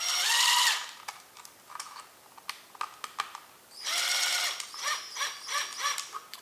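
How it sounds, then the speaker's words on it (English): A power driver runs screws through the eyelets of a mod wing into a kydex holster, with two loud buzzing bursts separated by a stretch of sharp clicks and ticks, all close and without talk. "use a power driver"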